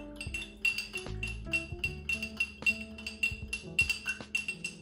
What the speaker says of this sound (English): And then we'll stir it again.